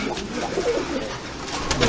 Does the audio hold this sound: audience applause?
no